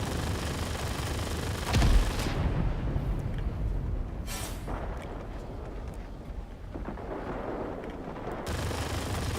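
Machine guns on a fighter aircraft fire in the World of Warplanes video game, heavy rattling bursts over a constant roaring engine drone, with one sharp loud impact early and further bursts toward the end.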